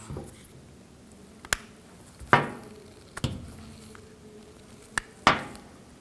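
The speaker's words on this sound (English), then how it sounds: "Just use a straight blade screwdriver. Pop those off." Plastic radio knobs on a 2007 Chevy Silverado 1500 Classic prised off with a straight blade screwdriver: several sharp clicks and snaps spaced a second or so apart, close and fairly loud against quiet background.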